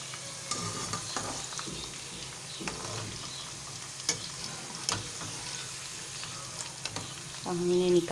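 Potatoes frying in a pan for a spicy aloo dish, with a soft continuous sizzle broken by occasional stirring clicks and scrapes, plus a brief louder clatter near the end.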